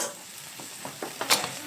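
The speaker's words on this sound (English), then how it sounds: "I'm going to add maybe half a stick of butter." Butter sizzles and crackles in a hot pan already holding sausage drippings, a brief close burst of frying hiss with a few soft stirring knocks and one sharp spatter near the end.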